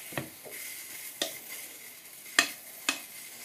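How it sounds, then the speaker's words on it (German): Homemade pink slime mixed with shaving foam being stirred, giving a wet, squishy crackle with a few distinct scrapes and clicks of the utensil against the bowl, close and moderately quiet. "Ella, du rührst weiter."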